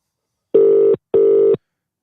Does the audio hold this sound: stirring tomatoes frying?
no